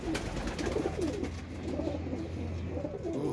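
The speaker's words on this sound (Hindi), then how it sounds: "ये मामदीन कबूतर है" A pet pigeon coos in a rhythmic series of soft, close, throaty calls over a low background hum.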